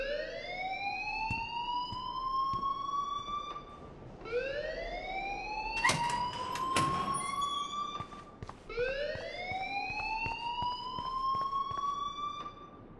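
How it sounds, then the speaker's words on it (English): A rising, wailing electronic alarm in the Life is Strange video game repeats three times in long sweeping tones, with sharp clicks and knocks scattered in between. "please turn off that alarm"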